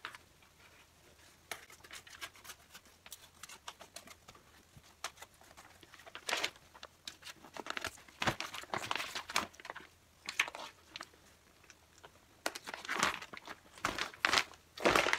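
Scissors cut through a baseball cap being made into a face shield, producing scattered quiet snips and crinkly rustles in short bursts that grow busier toward the end, with no voices.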